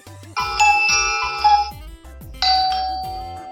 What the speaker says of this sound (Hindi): ये घंटी की आवाज है।